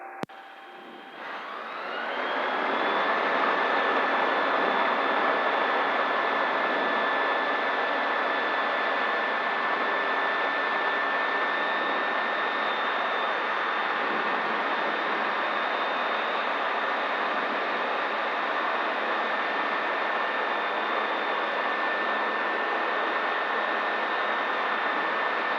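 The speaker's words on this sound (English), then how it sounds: "36 and taking off, Golf Mike Charlie." A light aircraft, call sign Golf Mike Charlie, takes off from runway 36 at Wellesbourne, its engine rising to a loud, steady full-power drone with a sustained whine that holds unchanged for the whole climb.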